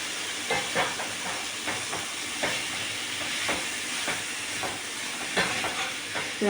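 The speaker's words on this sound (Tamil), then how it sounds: "இப்போ நான் இதையும் போட்டு வதக்கிக்கிறேன்." Broccoli sautés in a pan for broccoli peas kurma, a continuous sizzle broken by rhythmic scraping strokes of stirring.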